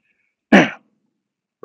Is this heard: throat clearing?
yes